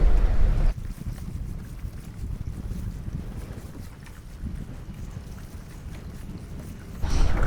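A small boat pounds through nasty rollers in strong wind, with heavy wind buffeting on the microphone, a loud thump at the start and another near the end, and a churning hull-and-water rumble in between.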